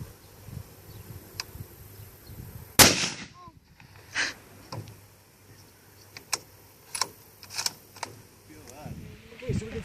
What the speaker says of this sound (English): you're firing at the plastic, then the steel, then the robinia, then the cedar